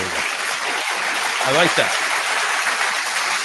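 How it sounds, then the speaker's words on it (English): An audience applauds on a talk show, a steady wash of clapping running throughout while someone speaks briefly over it. "We'll go ahead and get a round of applause for that."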